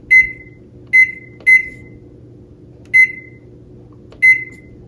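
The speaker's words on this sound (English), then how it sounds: "So let me pop this in the microwave" Five sharp electronic beeps from a microwave keypad, unevenly spaced, clear and close over a low background hum.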